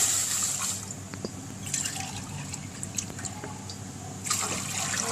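Water from about two and a half glasses is poured into a pot on the stove to start sugar syrup for semolina halwa, a steady trickle and splash with a few drips, close and moderately loud, with no talking.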